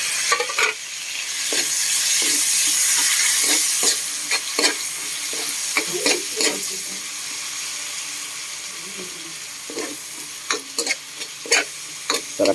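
Chopped tomatoes and dried fish sauté in a hot pan for a pork and string bean dish, with a steady loud sizzle and repeated scraping stirs throughout.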